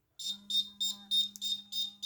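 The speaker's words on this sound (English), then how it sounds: "if any obstacle detected, alarm on, vibration on" An Arduino blind stick's obstacle alarm sounds a rapid series of seven shrill electronic beeps in a steady rhythm, close and clear, over a faint low hum.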